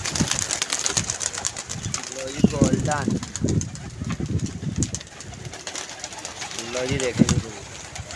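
Pigeons at a loft coo softly amid steady background noise, while several people talk over them throughout.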